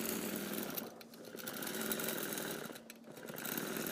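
An embroidery machine stitches a quilt block with a steady, buzzing mechanical drone and rapid needle chatter that briefly eases twice before continuing, close and moderately quiet.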